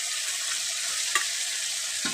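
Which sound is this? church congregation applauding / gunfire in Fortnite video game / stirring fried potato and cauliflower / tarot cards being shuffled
stirring fried potato and cauliflower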